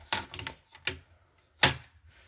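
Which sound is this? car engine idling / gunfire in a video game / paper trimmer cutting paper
paper trimmer cutting paper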